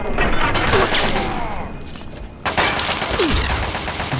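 Loud, close gunshots fired in Fallout 3, dense crackling volleys running through most of the stretch with a sharp burst near the middle, layered under excited talking.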